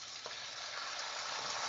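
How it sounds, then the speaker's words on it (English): Steady broadband sizzle of water hitting a hot pan with taco seasoning, a close, continuous frying hiss with no pauses and no one talking. "you can hear that as it hits the pan and it starts to sizzle"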